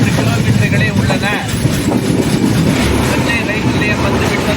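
The Cholan Express rolls loudly on its rails as it slows near Thanjavur, a dense rumble with wheel clatter and metallic squeals, and voices mixed in.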